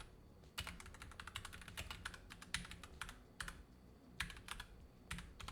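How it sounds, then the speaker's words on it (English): Rapid, irregular clacking of a mechanical computer keyboard, typed in bursts with short pauses, close and moderately loud, no voices. "I got a mechanical keyboard going, so my typing is a little bit sloppy right now."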